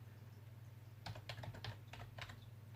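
Computer keyboard typing, a quick burst of about a dozen close, faint key clicks over a low steady hum, without talk.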